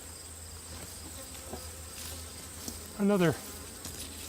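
A fairly small bee swarm clustered in a ginkgo tree gives off a faint, steady buzzing a couple of feet away, under a low background drone, with one brief spoken word partway through.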